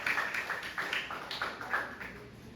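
A church congregation claps hands in a steady rhythm of sharp, evenly spaced claps during worship. The sound is moderately distant, with no talking over it.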